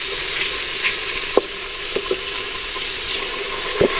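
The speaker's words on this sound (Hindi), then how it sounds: "लहसुन अदरक को भूनते हुए 2 मिनट हो गया" Garlic and ginger fry in hot oil with a continuous bright sizzle, close and steady, broken by a few soft scrapes and taps of a stirring spoon against the pan.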